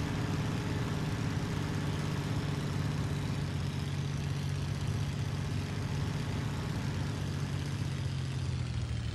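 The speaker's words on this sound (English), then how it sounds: "let's get the revs back up, throttle up" A WWII fighter aircraft engine in the Il-2 Sturmovik: Cliffs of Dover flight simulator drones steadily at high throttle, a constant low rumble with no break and no voices.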